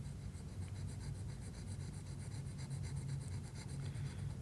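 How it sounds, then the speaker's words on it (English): A sharpening stone rubs along a dental instrument in light, short back-and-forth strokes, giving a faint, continuous rasping scrape close up with no talking. "I would take the sharpening stone and use a light touch with short back and forth strokes."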